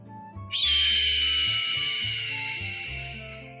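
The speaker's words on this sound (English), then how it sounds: "this sound actually belongs to the red-tailed hawk" A red-tailed hawk's call, a single loud, drawn-out raspy scream that starts sharply and fades slowly over a few seconds, heard alone and close.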